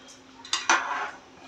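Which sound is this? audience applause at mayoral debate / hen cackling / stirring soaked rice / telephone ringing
stirring soaked rice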